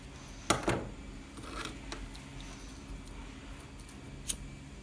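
Scissors cut through the fabric ends of a neck tie in a few sharp, close snips, with a quiet pause between them and a lone final snip near the end.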